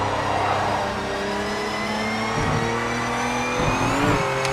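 Race car tyres warming up in Project Motor Racing: a steady, loud engine drone with whining harmonics that rise and dip slightly as the car weaves, continuous throughout without talk.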